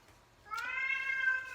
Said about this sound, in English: Big time meowing.